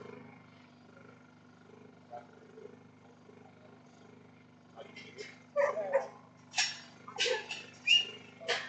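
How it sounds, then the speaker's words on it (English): Working dog barking at weaner stock in the stock yards, several loud sharp barks in an irregular burst arriving halfway through after a quieter stretch of low background hum and faint sounds. "He's got some free bark."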